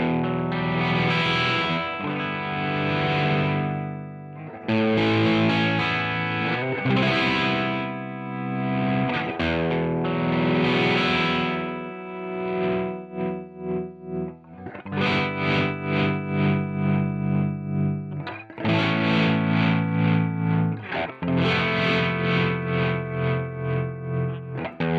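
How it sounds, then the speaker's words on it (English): Electric guitar run through an IK X-Vibe pedal set to tremolo, a loud, dense, distorted stereo tone whose volume pulses in steady waves over about twenty-five seconds of continuous playing, with no voices. "Let's try the tremolo."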